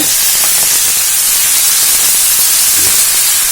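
Ground spices, including turmeric, frying in hot oil with a constant, close, hissing sizzle that holds steady throughout, with no voices.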